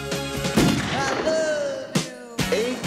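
AK-47 gunfire in a crime film trailer, with several sharp loud bursts cutting through a dense mix of music and effects, a sustained tone ringing between the shots.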